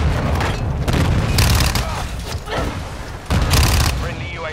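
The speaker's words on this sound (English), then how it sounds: "Hostiles launched a cruise missile." A cruise missile strike in Call of Duty Modern Warfare II on the Shipment map, loud booming blasts with rumbling debris, two heavy surges in quick succession, close and dense.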